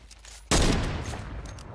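Gunfire in Fortnite Battle Royale, a sudden loud burst of rapid shots that rings out and keeps rumbling, close and dominant, with no talking during it.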